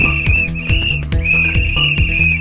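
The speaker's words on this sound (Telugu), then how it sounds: "ట్రాఫిక్ పోలీసు వాళ్ళ లెక్క విజిల్ చేసుకుంటా తిరుగుతాంటారు" A person whistles like a traffic policeman, a shrill sustained whistle broken into short and long blasts over a thumping rhythmic beat.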